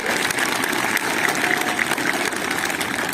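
A crowd at a public event in Balaghat gives continuous applause for Ramdev Baba, dense and steady clapping from a medium distance with no clear speech.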